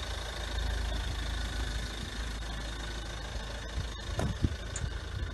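Ford Kuga engine idling at a steady low rumble, with a few faint knocks and clicks near the end.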